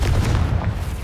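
A Confringo spell explosion in the video game Hogwarts Legacy: one dense, loud, sustained boom with a heavy low rumble that fills the whole moment.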